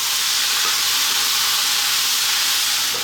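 Cooked chickpeas simmering in a chickpea and potato curry pan over medium heat produce a steady, close hiss and sizzle that stays even throughout, with no voices.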